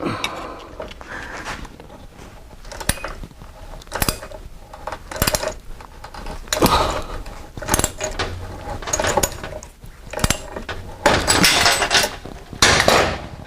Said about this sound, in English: First thing I want to know is, will it really cut 1/8 inch thick steel?